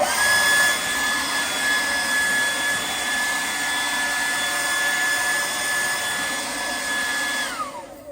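A handheld blower cleans off bonsai benches, running as a loud, steady whirring drone with a high whine that winds down near the end.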